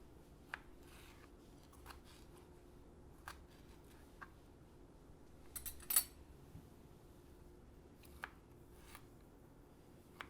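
Knife dicing onion for guacamole on a cutting board: scattered quiet taps and chops at an uneven pace, with one sharper cluster of cuts near the middle, over a low background hum.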